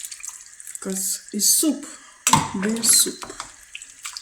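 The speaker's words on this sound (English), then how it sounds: "Let's add water" Water pours into a simmering pot of bean and turkey soup, a steady wash of splashing heard beneath a person talking throughout.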